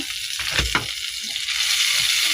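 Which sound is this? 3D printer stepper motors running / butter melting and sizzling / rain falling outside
butter melting and sizzling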